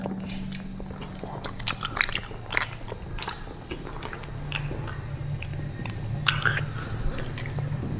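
Someone eats bananas during an eating challenge, with close, soft chewing and biting sounds repeating throughout while faint voices talk in the background.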